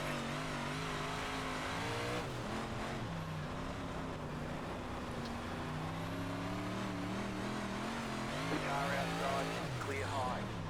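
Dirt race car engines at Weedsport Speedway in iRacing rev and whine continuously, their pitch rising and falling as several cars accelerate and ease off, with a voice talking over the steady engine drone.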